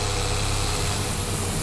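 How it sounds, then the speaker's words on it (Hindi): A tractor fitted with a V8 engine runs in Farming Simulator 22, a steady close, loud engine drone with a constant low hum and no break. "दोनों सिलेंसर में धुआं निकलता है यार, V8 इंजन लगा रखा है भाई इसमें"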